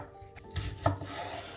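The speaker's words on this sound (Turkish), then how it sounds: "Piyazlık şekilde doğra, ince ince." Onion is sliced thinly with a knife on a board, a few soft, close blade strikes and thuds with scraping in between, quiet and without speech.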